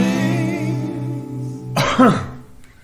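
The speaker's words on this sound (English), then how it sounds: "It's just a little cough." A single sharp cough cuts in after a sustained tone, followed by a brief throat-clearing rasp, close to the mic.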